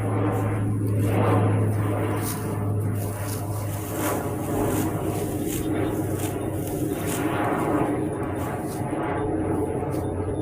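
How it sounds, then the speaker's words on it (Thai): An airplane flies overhead with a broad, steady drone that holds at an even level throughout, while faint voices murmur in the background. "โอ้เสียงยน"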